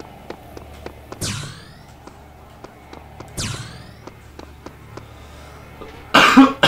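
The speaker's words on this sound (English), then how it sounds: "I'm gonna die by my cough." Two sharp, harsh coughs spaced a couple of seconds apart, over a background of steady ticking thumps, ending in a loud burst of noise.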